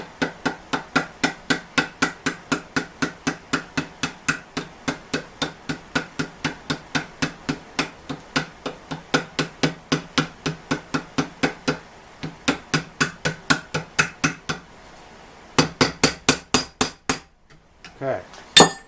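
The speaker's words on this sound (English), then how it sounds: "We're going to take our hammer with the pointy thing on the end and try." A pointed hammer strikes the rivet tabs on a band from a 1925 Ford Model T, making a long, rapid run of sharp, ringing metallic taps close by, with a brief pause before a final burst of blows.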